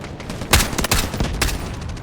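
Rifle gunfire in the shooter game Delta Force: loud, sharp shots fired in quick, uneven bursts for about two seconds, with no talking.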